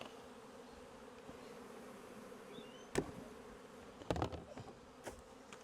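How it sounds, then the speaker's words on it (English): A low, steady hum of honey bees buzzing close by as a frame is taken from a hive's brood box, with a few brief knocks and clatters breaking through around the drone. "Frame of bees from the brood box."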